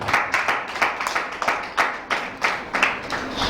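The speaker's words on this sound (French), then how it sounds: "applaudissez" Audience clapping at a school support event for girls from a mathematics competition, uneven bursts of hand claps rising and falling in rhythmic waves, fairly near and moderate.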